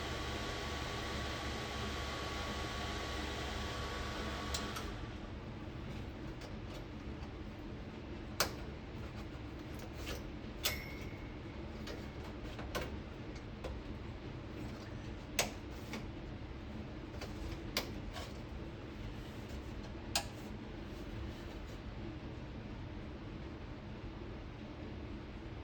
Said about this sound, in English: See, I don't know why that fan starts fast and then it slows down.